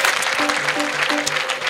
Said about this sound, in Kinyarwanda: amashyi n'impundu tubashimire cyane